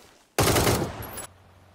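Automatic gunfire in the battle royale video game PUBG comes as one loud, close burst lasting just under a second, with no talk over it.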